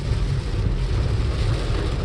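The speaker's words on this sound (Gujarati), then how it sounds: "સુપર વરસાદ છે આજનો." Heavy rain pours steadily in Surat, a dense, continuous hiss with a low rumbling undertone, close and loud throughout with no voices.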